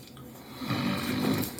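A man fast asleep snores once, a close, low rasping breath that swells and fades.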